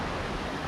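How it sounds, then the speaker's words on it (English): Hidden waterfall in Cambodia at its first tier, a steady, dense rush of falling water filling the short moment with constant close roar and no voices. "So this is the first step of the waterfall."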